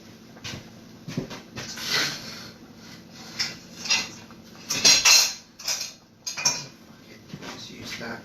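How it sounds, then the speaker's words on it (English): A utensil stirs and scrapes food in a metal pan while a roast salmon dish is being cooked, producing irregular clinks and scrapes, with a few sharper metallic taps. The sounds are close and come in uneven bursts. "Give that a bit of a stir."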